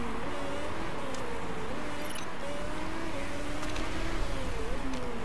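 Race car engine from the racing management game Motorsport Manager, a steady mid-pitched drone that rises and shifts in pitch as the car accelerates. It holds at a moderate level and runs continuously with no talk over it.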